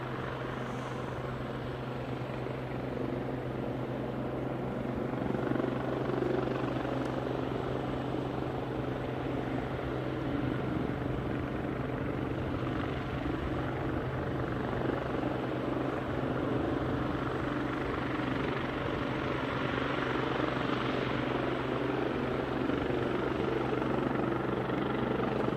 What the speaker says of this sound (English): You're about to see a chopper, not this one that we're pointing at, but the incoming one